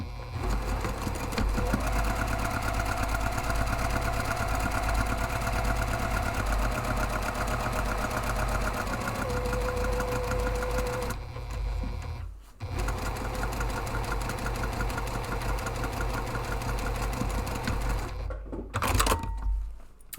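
A sewing machine runs steadily for long stretches, stitching a seam on padded camera bag fabric, its close mechanical whir broken by two brief pauses before resuming.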